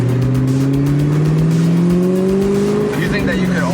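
A stock 2003–2004 Ford Mustang Cobra revs loud and close, its engine note climbing steadily before easing off into a few exhaust crackles near the end.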